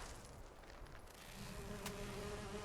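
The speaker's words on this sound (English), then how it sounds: "So there's the bee swarm." A bee swarm in the video game Fallout 76 gives off a steady, dense insect buzzing that holds throughout and swells slightly toward the end.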